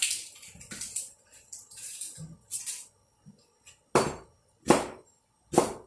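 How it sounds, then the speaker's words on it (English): Knife working through onions on a cutting board: a few sharp, separate knocks close by, spaced about a second apart near the end, with quieter handling noise before them. "Just trimming and peeling right now. And then I will chop them up."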